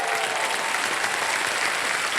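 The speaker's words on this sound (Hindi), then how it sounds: "देवियों सर, ताली बज जाए इनके लिए." Studio audience applause on the quiz show Kaun Banega Crorepati, dense steady clapping from a large crowd, loud and continuous throughout.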